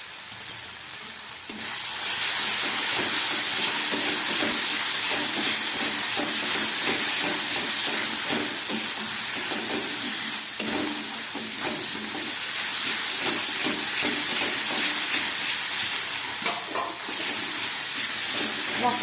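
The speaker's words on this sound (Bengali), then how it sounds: "ঘিটা দিয়ে কষাতে হবে।" Spice masala sizzles and fries steadily in ghee for kabuli chana, a dense continuous hiss with occasional stirring scrapes from the pan.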